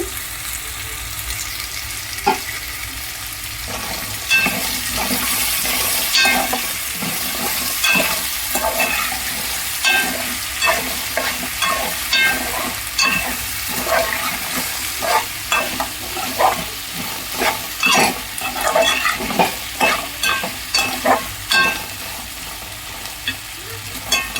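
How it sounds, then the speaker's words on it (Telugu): Taro root (chamadumpa) curry frying in a pan, a steady sizzle broken by repeated scraping and stirring strokes that grow more frequent toward the end, close and fairly loud, with no talking. "ఒక 2 నిమిషాలు వేయించుకోవాలండి. ఇలా కాస్త మగ్గుతాయి."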